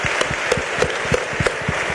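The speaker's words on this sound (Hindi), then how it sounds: "एक बार नारी शक्ति के लिए ताली बजा लो" An auditorium audience at a Hanuman gathering claps in honour of women's power, a steady hall-filling applause with a few sharper individual claps standing out at regular intervals.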